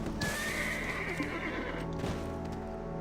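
A horse whinnies over steady clip-clop of hooves in the video game Black Desert, with a constant synthetic background hum.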